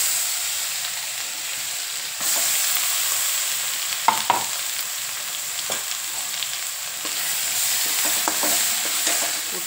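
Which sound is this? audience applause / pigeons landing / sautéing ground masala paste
sautéing ground masala paste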